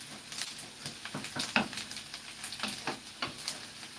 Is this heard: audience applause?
no